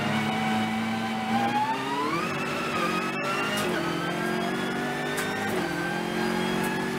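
Race cars roll behind a Porsche safety car on the Nürburgring Nordschleife during an NLS endurance race, engines droning close and rising in pitch with light revving as the pack forms up.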